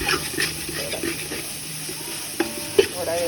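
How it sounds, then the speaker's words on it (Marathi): Onion fries in a pan until browning, a soft continuous sizzle with a few sharper stirring clinks from a utensil against the pan, close by and fairly quiet. "कांदा थोडा ब्राऊन होत ठेवत आहे"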